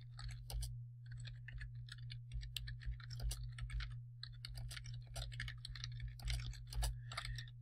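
Quick, close taps on a computer keyboard while filling in a PDF form, coming in uneven bursts over a low steady hum.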